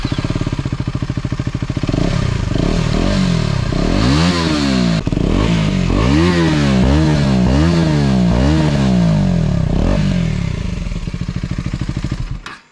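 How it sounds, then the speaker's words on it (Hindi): A KTM Duke 250 BS6 motorcycle with an aftermarket exhaust and the dB killer removed idles loudly, then revs up and down repeatedly in rising and falling sweeps before settling back and cutting off. "तो ये थी ड्यूक 250 की आवाज़ BS6 की"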